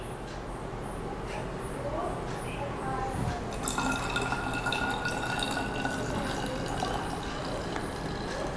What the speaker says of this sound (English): as I'm pouring water